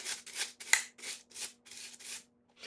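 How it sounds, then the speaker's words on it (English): Brush scrubbing carbon deposits off a soaked 2008 Acura MDX engine block, heard as about eight rhythmic, close, raspy strokes with brief pauses between them and no talking. "Let's see what scrubbing with the brush does."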